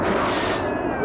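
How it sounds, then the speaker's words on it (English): Cartoon gunfire aimed at the heroes fills the moment as a dense, continuous burst of booming shots and blasts, loud and close, with no talking over it. "Someone's firing at us."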